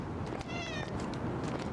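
A cartoonish cat meows a few times in a game character trailer, the short rising cries sitting faintly under dense music and effects that fill the mix throughout.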